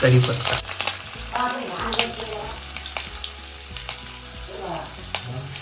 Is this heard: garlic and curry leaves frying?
yes